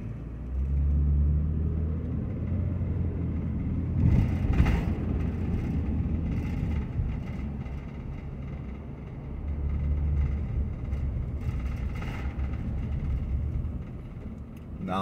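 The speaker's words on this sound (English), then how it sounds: "right now, I am driving down Chester Street." Car driving down a residential street, a steady low rumble of engine and road noise from inside the cabin, swelling and easing with speed, with a few brief rattles and thumps along the way.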